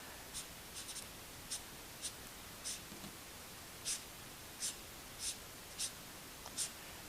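A felt-tip pen draws a grass outline on paper in a quiet room, making soft, short scratchy strokes about a dozen times at an uneven, unhurried pace.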